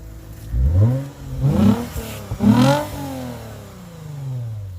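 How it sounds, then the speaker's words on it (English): Lexus IS250 engine with an Invidia Q300 exhaust revving in three sharp bursts, each climbing and falling back to a steady idle, loud and close with no talk. "You know, rev it one more time?"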